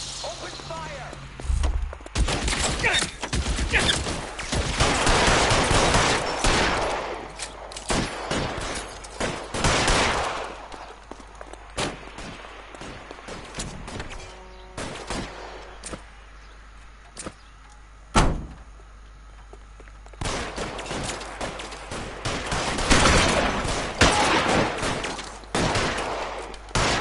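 Gunfire in a shootout from the video game LA Noire: repeated bursts of shots and loud cracks scattered over the span, with voices talking in between and a quieter lull in the middle.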